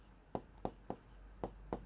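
Chalk or marker strikes a classroom board during a chemistry lesson, five short distinct taps and strokes at an uneven pace, close but quiet, with no talking over them.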